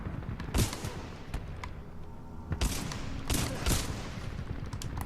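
Gunfire in Titanfall 2 on Master difficulty against hostile infantry: several sharp bursts of shots ring out in quick clusters over steady game ambience, some loud and close, others thinner and farther off.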